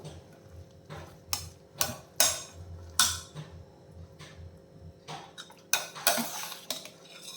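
A spoon scrapes and clinks against a pot while drumstick leaves are stirred into cooked lentils, sharp intermittent metallic taps and scrapes over quiet stretches, close and fairly faint, without talk.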